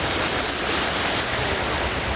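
Ocean waves on the east coast make a continuous, loud broadband roar of surf, steady and full without distinct breaks or voices.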